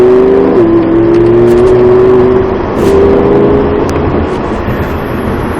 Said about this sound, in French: On accélère le long du rail à droite.